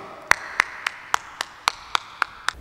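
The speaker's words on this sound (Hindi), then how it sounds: "बहुत सी ताली होनी चाहिए" Clapping at an award ceremony for a chief guest comes as about nine evenly spaced, sharp claps in a steady rhythm, sounding like one or a few pairs of hands, fairly light over quiet room noise.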